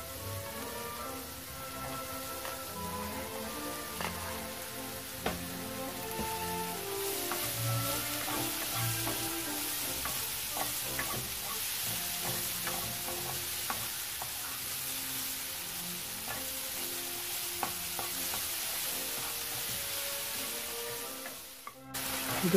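Mushrooms and bell pepper sizzle steadily in a hot pan, with scattered clicks and scrapes from stirring throughout and no voices.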